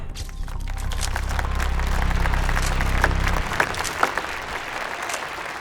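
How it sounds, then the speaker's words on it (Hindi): Loud, dense applause from a crowd welcoming a professor at a press conference in a movie scene, a steady wash of many hands clapping throughout, with a low rumble beneath the first part. "इस समारोह में शामिल होने वाली प्रोफेसर यानजिन का हम सब लोग तालियों से स्वागत करेंगे। तालियां।"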